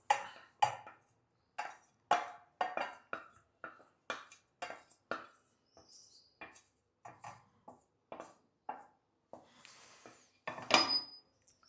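A metal spoon clinks and scrapes against a pan while stirring a garlic oil tempering, a string of sharp, close, irregular taps and rubs with short gaps between them and no talk.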